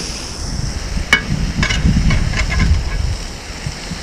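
Onions hissing and sizzling on a hot grill griddle, a loud, close, continuous steamy hiss with a few metallic scrapes and taps of a utensil on the plate.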